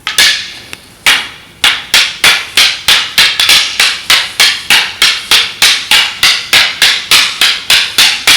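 Hard wooden sticks clack together in a fast, steady rhythm during a basic four-count Filkenjutsu martial arts two-stick drill, sharp repeated strikes continuing for several seconds, loud and close.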